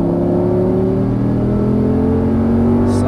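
Audi R8 V10 accelerating on a race track, a steady loud engine drone with rising harmonics as the car pulls hard through the gears, heard close and continuous without talk.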